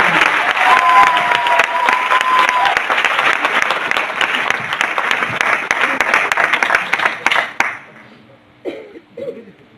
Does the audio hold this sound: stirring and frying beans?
no